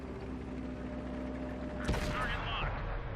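A single sharp tank cannon shot from a Sherman III in World of Tanks cracks out about midway, loud and close, with a short rumbling tail and the background hum of the battle before and after.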